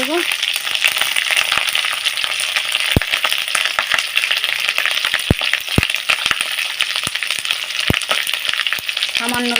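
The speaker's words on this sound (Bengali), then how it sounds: "একটু পেঁয়াজ দিলাম, দিয়ে পেঁয়াজটা ভালো করে নেড়ে নেব।" Onions fry in hot oil in a pan with ginger-cumin paste while a spoon stirs them, for a home-cooked spinach dish. A steady close sizzle runs throughout, with occasional clicks of the spoon scraping the pan.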